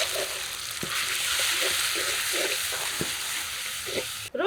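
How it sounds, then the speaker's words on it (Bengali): Spice paste of ground turmeric and chilli sautés in a pan with a little water for a desi chicken curry, sizzling steadily up close while a spoon scrapes through it in repeated soft strokes. "অল্প জলে কষিয়ে নেব"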